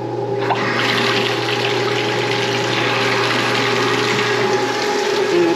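Water draining steadily with a constant gurgling, rushing flow and a low pump-like hum, loud and close, unchanging for several seconds.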